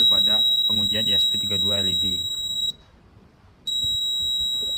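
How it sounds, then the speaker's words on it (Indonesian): A buzzer on an ESP32 LED test circuit gives a steady electronic tone that runs through most of the clip, stops briefly and then sounds again, with a person talking over the first half. "kita uji coba apakah buzzernya hidup sebagai penanda atau tidak"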